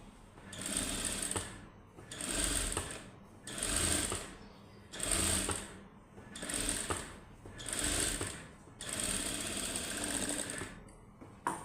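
A sewing machine stitches fabric in repeated bursts, seven runs of steady whirring separated by short pauses, close and clear with no talk over it.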